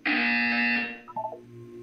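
Test-chamber buzzer in the Portal 2 video game: one loud, harsh sustained electronic buzz lasting under a second, then a few short quieter electronic tones.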